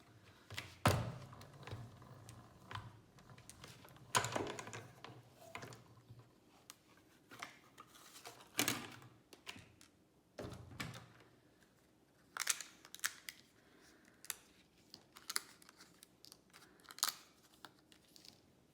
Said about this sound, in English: laid them on, and I'll die cut those out.